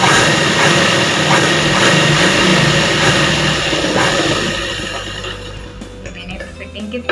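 An electric sewing machine stitches the fitting seam on a cuff sleeve for a top. Its motor whirs close and steady, then eases down and trails off near the end.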